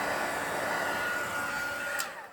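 Heat embossing tool blowing hot air in front of a card to melt embossing powder, a steady close whirring hiss that tapers off as it switches off at the end.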